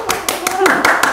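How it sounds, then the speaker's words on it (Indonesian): About six sharp hand claps in a quick, slightly uneven rhythm, close and loud, with a voice speaking over them. "Tepuk tangan terus."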